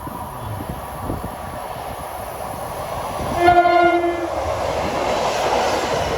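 A train horn sounds loudly for about a second over the steady rumble of rolling railcars on the Northeast Corridor at Linden, New Jersey, its harmonic blare standing out before the rumble carries on.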